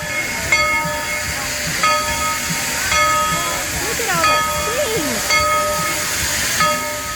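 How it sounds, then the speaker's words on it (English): A steam locomotive train rumbles steadily along with hissing steam and rattling carriages, while indistinct voices chatter faintly in the background. "Come along with us as we take a ride on the steam train."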